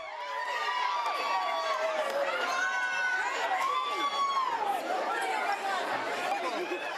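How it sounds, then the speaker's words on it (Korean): Children cheering as they appear at an event at an American diet camp for kids, a dense, bright wash of excited young voices shouting and squealing together, steady and fairly loud for the whole stretch. "아이들이 나타나자 환호성이 터진다."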